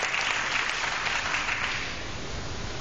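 Graduation audience clapping, a broad, even roar of applause from a large crowd that eases slightly toward the end.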